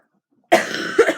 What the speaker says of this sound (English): still sick, so if I'm about to cough,